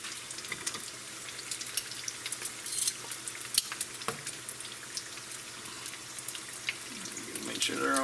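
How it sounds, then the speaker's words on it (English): Raccoon egg rolls frying in oil, a continuous bright crackling hiss with scattered pops, steady and close, growing slightly louder toward the end. "So I'll let them cook for probably 2 to 3 minutes on one side, and then spin them over and let them cook on the other side"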